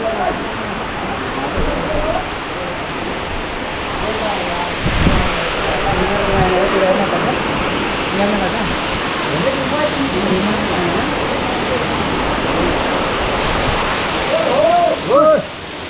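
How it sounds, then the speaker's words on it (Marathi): Sudden unseasonal rain falls steadily in a Konkan village, a dense, constant hiss close by, with voices talking over it throughout. "बघता बघता पाऊस आला"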